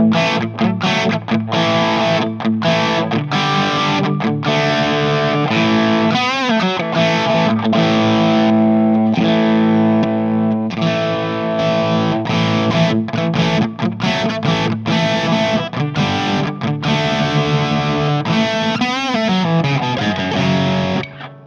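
Distorted electric guitar runs through the Plexi amp model on a Line 6 HX Stomp, playing crunchy chords and riffs continuously, loud and saturated with no voices.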